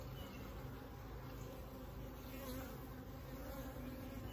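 Honeybees buzz steadily at an apiary hive in an outyard during a swarm check, a dense continuous hum of many insects close by with no voices.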